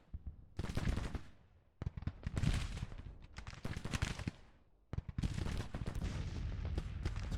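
Heavy artillery booms and crackling rifle and musket volleys from a Civil War strategy video game battle, loud and dense, rolling in overlapping bursts with brief lulls between them and no talking.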